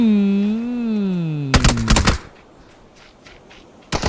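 Gunfire in the video game PUBG during a Thunderstorm Group esports match, heard as two rapid clusters of shots followed by a short burst, after a sustained tonal sound that bends downward.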